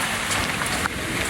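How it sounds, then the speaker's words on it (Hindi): Heavy rain pours down in Chandigarh as a dense, continuous hiss of drops beating on surfaces, loud and close for a brief moment with no voices. "और कोई बारिश बहुत ज्यादा पड़ रही है।"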